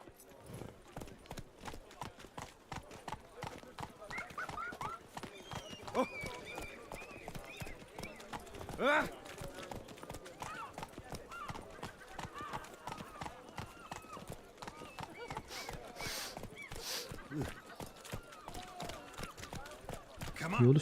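Hooves of Roach, Geralt's horse in The Witcher 3, clip-clop in a continuous quick rhythm along with game ambience and occasional louder thuds. Voices are heard over the hoofbeats.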